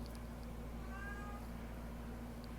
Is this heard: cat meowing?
yes